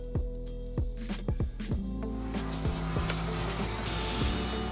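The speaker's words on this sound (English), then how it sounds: "then I let the Stepcraft D840 do its thing" A Stepcraft D840 CNC router cuts partway through plywood, its motor whining steadily beneath a run of sharp mechanical clicks and knocks that come in quick bursts early on, then settle into a continuous grinding hum.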